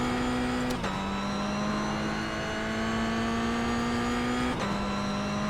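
A Mazda MX-5 on the Oulton Park race track holds a loud, steady engine drone with two quick shifts where the pitch drops, then the tone rises gradually, and no talk over it.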